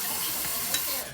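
Thin, runny cornbread batter fries in a shallow layer of grease in a frying pan, giving a brief, steady, close sizzle and crackle.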